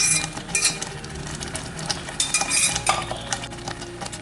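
Cooked broken wheat stirred in ghee in a hot pan for Onam payasam: steady scraping and clinking of a spoon against the pan, with a soft sizzle, close and continuous.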